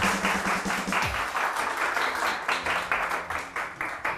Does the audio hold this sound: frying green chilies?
no